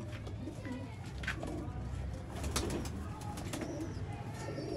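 Pigeons coo steadily in a breeder's loft of golden pigeons, low throaty calls overlapping throughout with a few brief chirps and faint background voices.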